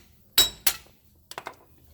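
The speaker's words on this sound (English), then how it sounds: "You have to tap it with a hammer" Two sharp metallic hammer taps on the wheel hub of a Nissan Wingroad, made to knock it loose during wheel bearing replacement, close and loud, followed by a quicker cluster of three lighter ringing taps.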